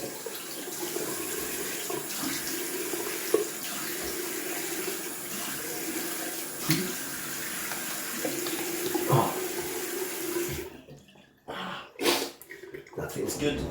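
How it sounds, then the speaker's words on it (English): A tap pours a steady stream of water for several seconds, with small splashes, then cuts off into quieter irregular drips and movements. "And down for a last cold water rinse."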